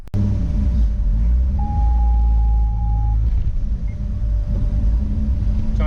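Racecar engine running on a dyno with traction control on, a steady heavy low rumble throughout, loud and close, with a brief high tonal whine partway through.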